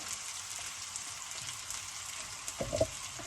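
Onions hitting a hot wok of vegetables and seafood, giving a soft, even sizzle throughout with a few louder clatters and stirring knocks near the end, close and with no voices.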